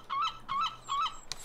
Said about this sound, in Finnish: Vittu, se oli lokki.